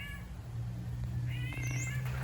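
A cat meows indoors with birds nearby, giving a short meow near the start and a longer, rising meow later, both close and clear over a steady low hum.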